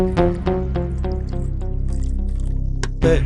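Liquid pours and splashes steadily into a container, with occasional drips and a couple of sharper clinks near the end.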